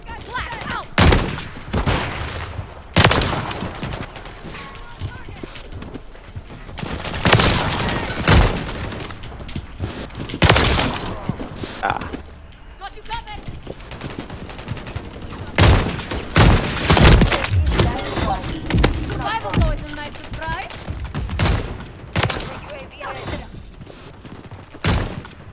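Sniper rifle fire in the video game Call of Duty MW3 cracks out as loud, sharp, booming shots spaced a few seconds apart, with in-game noise and faint voices in the gaps.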